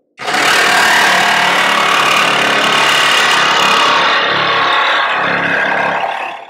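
A pneumatic chisel hammers loudly and continuously into a 1968 Volkswagen car floor, a harsh close rattle that runs for several seconds before it cuts off.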